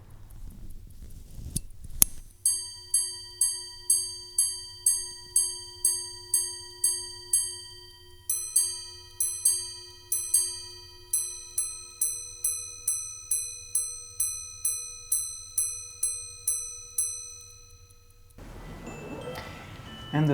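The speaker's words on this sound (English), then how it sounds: "Loud and clear, the Vacheron exemplifies what a resonating case allows." A Vacheron Constantin minute repeater watch chimes clearly in its resonating case, with a long run of evenly spaced bright strikes that shifts to a second tone partway through before fading into soft handling noise.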